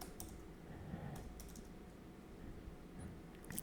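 Quiet, steady typing on a computer keyboard, with a dense run of soft key clicks continuing throughout.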